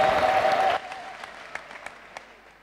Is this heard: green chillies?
no